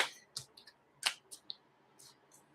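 Tarot cards are turned right side up, a series of quiet, sharp clicks and taps spaced irregularly in near silence.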